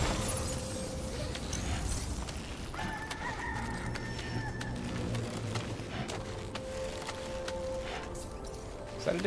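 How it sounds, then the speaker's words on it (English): A rooster crows at sunrise in the video game Death Stranding 2, its long call rising over a dense, busy game soundscape of mechanical hum and ambient noise, steady throughout. "Is that a damn rooster?"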